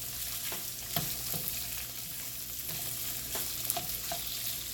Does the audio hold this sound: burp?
no